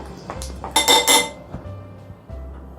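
Honey, sugar and water being mixed in a small bowl with a spoon, giving a cluster of bright clinks and scrapes against the dish in the middle, with softer taps before and after.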